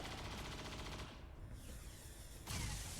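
Walk fire gunfire in XCOM 2 Long War 2, a sustained burst of rapid automatic shots rattling for about three seconds, loud and close, with a heavier blast at the end.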